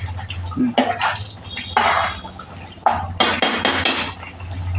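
Spoon scraping and clinking in a pan while palak paneer is stirred, a series of loud metallic scrapes in irregular strokes close up, with someone talking over it.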